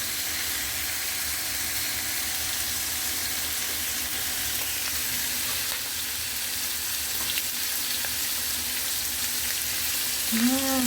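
Onion frying in olive oil, a steady close hiss and crackle that runs evenly throughout, with a brief scrape of a utensil near the end.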